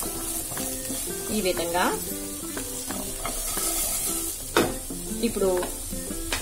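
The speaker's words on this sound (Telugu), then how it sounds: "ఒక 2 నిమిషాలు తిప్పుకుంటామండి మన కాలీఫ్లవర్ ఆయిల్ లో బాగా మిక్స్ అవ్వాలి" Cauliflower frying in oil in a pan, stirred steadily so pieces scrape and clatter over a constant close sizzle, while a voice talks briefly over the cooking.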